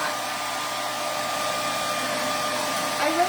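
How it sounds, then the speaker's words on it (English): A handheld hair dryer blows loudly and steadily while drying a craft pot, a constant broadband roar that holds level for the whole stretch with a slight bump near the end. "I really need to get a hairdryer that is quieter"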